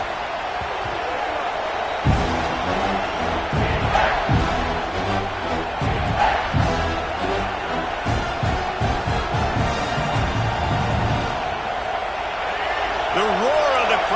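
A dense, steady roar from a stadium crowd fills a college football video game matchup between Clemson and South Carolina, with a commentator's voice running over it and occasional swells in the noise.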